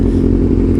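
A 2021 Kawasaki ZX6R motorcycle with an M4 slip-on exhaust idles close by, a loud, steady low rumble with a slight clattery burble over a brief moment.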